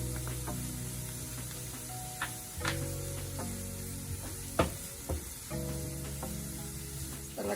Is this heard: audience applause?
no